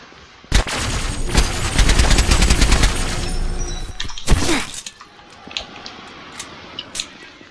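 Rapid automatic AK rifle fire in a Roblox shooter game, loud bursts of cracking shots followed by a few sharp single impacts and breaking sounds, with no talk.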